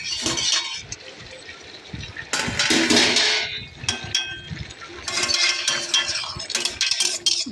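A metal lid comes off a pot of prawn kalia with potatoes, followed by stirring. Bright clanks and scraping clinks of metal arrive in several bursts, close and fairly loud.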